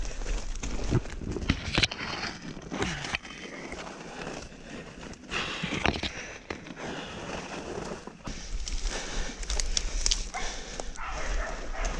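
Hunting dogs bark in bursts during a pig hunt in the bush, loud and close against a rough, noisy outdoor background with rustling and movement throughout.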